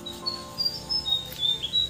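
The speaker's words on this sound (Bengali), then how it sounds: "দোয়েল পাখি, হ্যাঁ কি সুন্দর ডাকছে দেখুন" An oriental magpie-robin sings in a village setting, a few short, thin, whistled flute-like notes repeating at a moderate distance over a low background hum.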